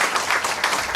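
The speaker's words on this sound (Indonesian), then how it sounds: "Yang percaya berikan tepuk tangan bagi Tuhan kita." Church congregation applauding during a sermon, a dense steady wash of clapping filling the whole moment without pause.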